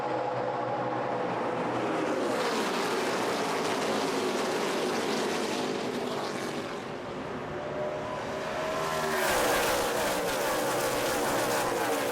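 NASCAR Sprint Cup race cars, 2011, roaring around Pocono Raceway: a continuous blended engine drone from the pack, swelling and fading as cars pass, ending with a louder sweep.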